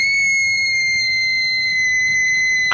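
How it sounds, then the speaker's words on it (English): A woman's scream as a sound effect in a model-railway children's story, heard as a sustained, piercing, shrill tone at steady high volume for nearly three seconds with no break. "The Fat Controller held Clarabel's door open when Allicia Botti screamed"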